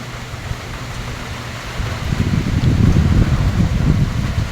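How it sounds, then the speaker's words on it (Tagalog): Steady roaring wind with a low rumble that swells louder partway through, strong typhoon gusts moving through trees and bamboo in Quezon City, with no voices. "kitang-kita po ang lakas ng hangin sumasayaw ang mga punong kahoy"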